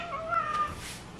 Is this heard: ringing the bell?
no